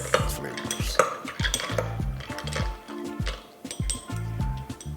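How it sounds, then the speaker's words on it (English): Mojito cocktail ingredients muddled in a glass with an up-and-down motion: a quick, steady series of close, bright clinks and knocks against the glass with no talking. "I'm not going to stir, I'm just going to just mix it up and down."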